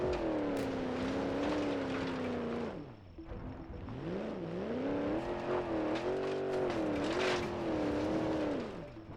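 Moonhawk car engine in BeamNG Drive climbing a mountain off-road, a steady droning engine tone that dips, then revs back up with rising and falling pitch as the car pushes uphill, heard alone and fairly close.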